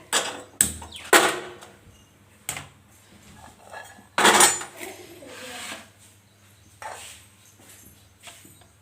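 A wok set down on a gas stove for paneer bhurji, with loud metallic clanks and clatters of pots and pans in separate bursts, close by amid quieter kitchen handling.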